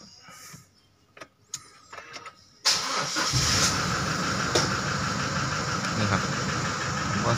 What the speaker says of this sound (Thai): ผมก็จะสตาร์ทเครื่อง